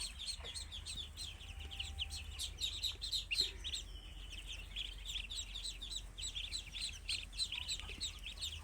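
Many Chinese ducklings, one to two days old, chirp in rapid, high overlapping peeps, a constant busy chorus at moderate volume over a low hum.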